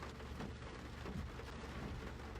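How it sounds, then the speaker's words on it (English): Steady rain falls outdoors in Tampa, Florida, a dense continuous patter filling the short stretch with no voices and no clear individual drops. "pardon the rain"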